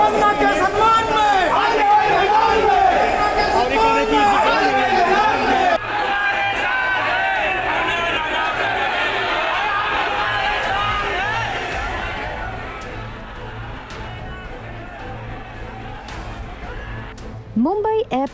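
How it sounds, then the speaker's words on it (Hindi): A dense crowd of Kangana Ranaut's supporters and protesters at Mumbai airport, loud overlapping shouting and chatter that gradually thins toward the end. "एयरपोर्ट पर कंगना रनौत के सपोर्टर्स और उनके खिलाफ प्रोटेस्ट कर रहे लोगों की भीड़ इकट्ठा हो गई"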